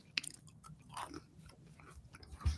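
Corn chip pieces on a Wendy's Loaded Nacho Cheeseburger being chewed close up, several uneven bites crunching and smacking over a quiet background.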